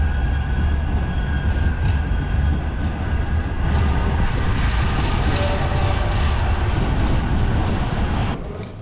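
Passenger train on the Manchester to Cardiff line, heard from on board: a steady, loud rumble of wheels and carriage noise with faint rhythmic clatter throughout, easing slightly near the end.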